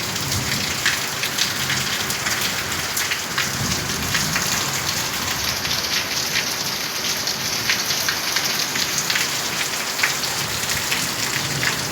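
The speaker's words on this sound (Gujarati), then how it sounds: "ગાજવીજ સાથે પણ વરસાદ છે" Heavy rain pours steadily onto surfaces, a dense close hiss with scattered droplet taps, running evenly throughout; no clear thunder stands out.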